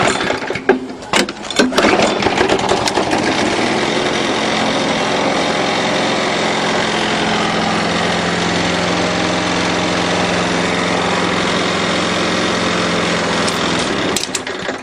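A small lawnmower engine runs steadily at idle after a valve job, a loud, close, even buzzing drone with a few sharp knocks near the start before it settles, then cuts at the end.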